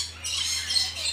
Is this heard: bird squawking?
yes